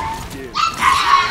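A dog barks in the video game Paladins, with short yipping calls rising over a steady electronic game soundscape, moderately loud and brief.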